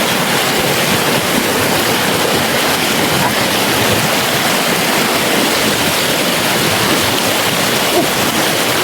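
Strong river current rushing around someone wading across a river: a dense, steady roar of churning water, loud and close, with no pause for the whole stretch.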